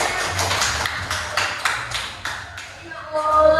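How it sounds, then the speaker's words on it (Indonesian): A class clapping hands in a primary school social studies lesson on maps: a short series of distinct, rhythmic claps lasting about three seconds, then a faint voice at the end. "Oke, kita beri tepuk tangan."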